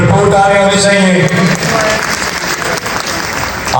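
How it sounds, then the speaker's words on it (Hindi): An audience at an annual ceremony claps loudly for a guest, the applause full and sustained throughout, with a voice talking over it at the start. "एक दफा एएम चौहान साहब के लिए भरपूर तालियां होनी चाहिए"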